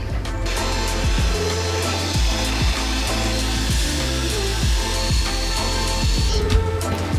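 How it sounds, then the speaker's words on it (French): A cordless drill with a brush fitted to it scrubs the inside of a bathtub during a bathroom renovation, making a steady motor whir with rhythmic scrubbing swishes and knocks as the brush moves across the tub. "pour nettoyer l'intérieur de la baignoire, eh bien on fait ça avec la visseuse et une brosse qu'on fixe dessus"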